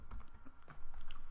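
Rapid typing on a computer keyboard, a quick run of light clicking keystrokes heard close and alone over about a second.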